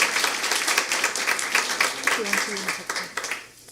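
An audience at an NUSD school board meeting claps in a brisk, uneven patter that thins toward the end, with people talking over the applause.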